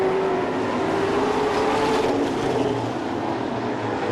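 Grisdale late model stock cars race around Flamboro Speedway, a loud, steady engine roar filling the track with a faint rising pitch from passing cars and no pauses.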